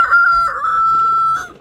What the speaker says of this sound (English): I will play Mr. Rooster Man. He's not crowing this morning,